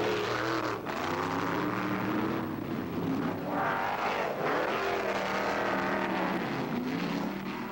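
USAC sprint cars from 1974 roar around the moist, tacky Eldora dirt track, a dense, continuous engine howl that swells and fades slightly as the cars race close by.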